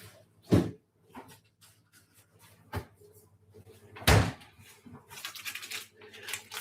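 Kitchen refrigerator door opening and closing, with a few distinct thumps and clunks spread over several seconds amid quiet handling noises and faint rustling.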